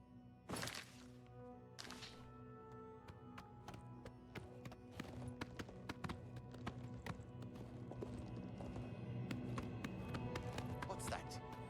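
Hooves of Shadowmere, a demon horse in a video game, clip-clop in a steady galloping rhythm, with sharp louder thuds early on and quieter continuous footfalls after, under a faint game background.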